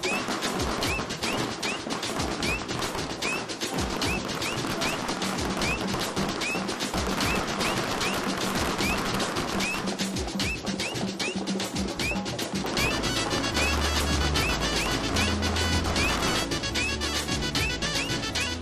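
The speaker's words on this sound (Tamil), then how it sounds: "ஏப்பா எதுப்பா வெடி வெடிக்கிறீங்க?" Dense, loud firecrackers bursting in rapid continuous volleys outside a house doorway in a residential neighborhood, crackling sharply without letup with a heavier booming layer joining toward the end.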